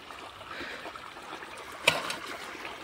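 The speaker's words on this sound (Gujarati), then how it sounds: "તો જો અહીંયાથી પાણી જઈ રહ્યું છે." Irrigation water running through a freshly sown garlic field, a soft steady trickle and gurgle close by, with one brief sharp splash or knock partway through.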